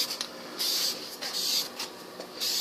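Primer sprayed as a super light dusting coat onto a car bumper cover, heard as four short, close, hissing spray-gun bursts separated by brief pauses.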